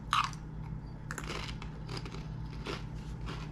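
Close, crisp crunching of a small sweet potato sea salt Pringles chip being bitten and chewed, a sharp first snap followed by several softer crunches.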